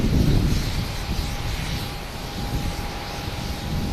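An American Airlines airliner rolls for takeoff at Boston Logan Airport, bound for Dallas-Fort Worth, its jet engines producing a loud, steady roar with wind buffeting the microphone throughout.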